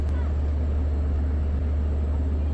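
Long Island Rail Road DM30AC diesel locomotive 512, running as trail engine on a train at Westhampton station, gives a steady, loud low-pitched diesel drone and rumble that holds without a break.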